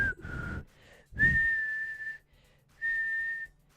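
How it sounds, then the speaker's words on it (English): A person whistles three wavering, thin tones separated by short pauses, close and alone, with breathy air noise at the start of each attempt. "I cannot whistle!"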